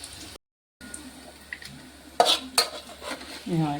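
Onion, coconut and garlic masala being scraped from a pan onto a plate, a few close metallic clinks and scraping strokes after a brief gap.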